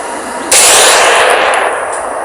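A single 9mm +P pistol round fired at a shovel gives one sudden, loud, sharp report that rings on briefly and then decays over the following second and a half.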